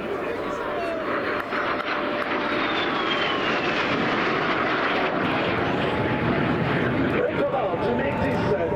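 A MiG-17 jet fighter flies past at the Aero Gatineau Ottawa airshow, its engine roar loud and sustained, with a commentator talking over it throughout.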